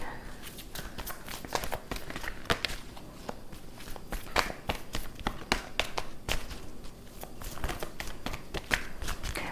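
Tarot cards being shuffled and handled, a busy run of crisp papery slaps and riffles that continues without a break throughout, close and fairly loud.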